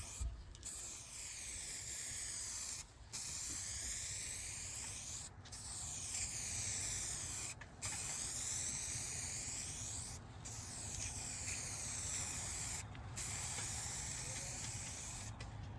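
A spray gun hisses in long, steady bursts separated by brief pauses while painting a 1969 Chevelle, the spraying continuous and close throughout.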